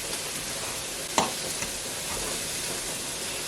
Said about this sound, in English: I always wait for the pan to heat up properly first before putting the meat in